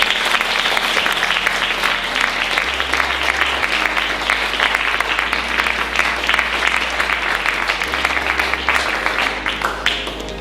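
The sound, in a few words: audience round of applause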